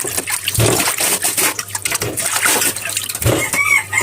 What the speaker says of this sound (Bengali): মাছগুলো লবণ দিয়ে ধুয়ে নিব